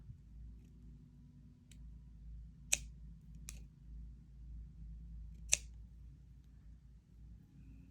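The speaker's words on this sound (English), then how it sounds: "Then we're going to cut our ends off." Scissors snip the ends of waxed cord on a friendship bracelet, giving a few sharp, isolated clicks against near silence, with two cuts standing out clearly.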